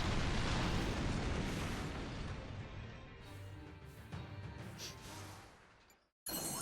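A video game explosion in Fuga: Melodies of Steel bursts loud and broad at once, then rumbles and fades over several seconds before a short cut of silence and a sudden return.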